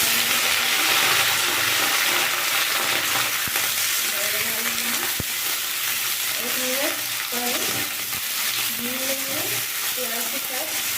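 Brinjal and potato pieces frying in oil over browned onion tempering, a steady hiss of sizzling with intermittent stirring clatter and faint background voices throughout.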